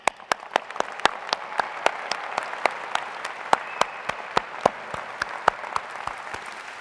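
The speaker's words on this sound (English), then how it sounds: "Let's hear some applause" Applause at a university graduate commencement ceremony, with a steady wash of clapping from a large audience and sharp individual claps popping out regularly near the microphone throughout.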